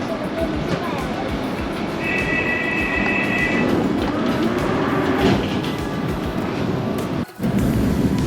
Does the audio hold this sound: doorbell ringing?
no